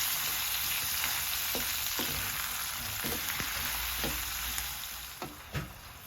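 Onion, tomato and turmeric masala sizzles steadily in a pan for an egg masala fry, with a constant bright hiss and a few sharp stirring scrapes and clicks near the end.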